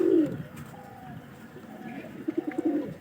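A pair of white pigeons coos alone, with a burst of soft, throaty coos at the start and a quicker run of rolling coos near the end, close and fairly clear.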